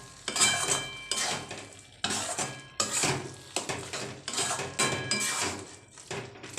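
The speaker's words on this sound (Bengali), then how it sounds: "খোয়াটা দিয়ে গাজরটা খুব ভালোভাবে মাখিয়ে নেব।" Khoya is worked into cooked grated carrots in a pan for carrot halwa, giving repeated rhythmic scraping and clattering strokes of a spoon against metal, close and prominent, with a light sizzle underneath.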